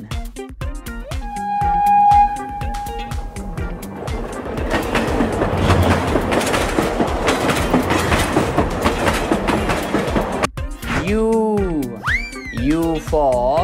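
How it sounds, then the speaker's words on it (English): A train rolls along rails with a rhythmic clickety-clack, loud and steady for several seconds, starting with a sustained whistle-like tone. Musical tones and a singing voice come in toward the end. "T for train."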